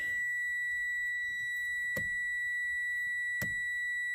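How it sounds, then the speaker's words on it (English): Inside a car at night, a steady, high electronic beeping tone continues without break, with two sharp clicks breaking in. "Don't mind the beeping."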